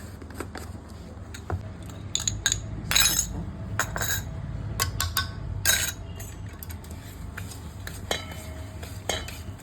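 A spoon stirs and scrapes semolina and yogurt batter against a bowl in quick, uneven strokes, with metallic clinks throughout, close and fairly loud.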